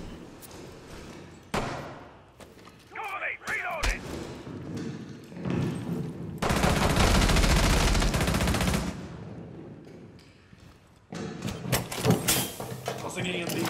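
Bursts of gunfire and heavy thuds from the tactical shooter Rainbow 6 Siege, with rapid shots, a dense sustained volley midway, and more shooting near the end mixed with game sounds.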